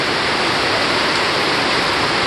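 Heavy hurricane rain from Hurricane Jimena pours down in a loud, steady roar of dense, continuous downpour that fills the whole moment without a break.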